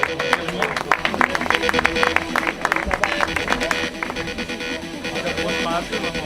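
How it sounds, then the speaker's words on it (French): Crowd at an outdoor trail-race prize ceremony applauding the winning team, sharp scattered claps over a public-address voice talking. "On peut les applaudir."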